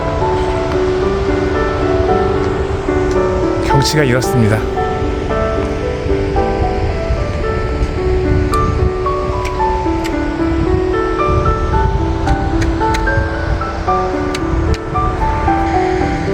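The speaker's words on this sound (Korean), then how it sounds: "여기 폭포가 있네요, 폭포가." A continuous rushing of a small waterfall at a campground at Supalbong, Chungju, South Korea fills the scene, steady and fairly loud, with a brief spoken remark and faint music underneath.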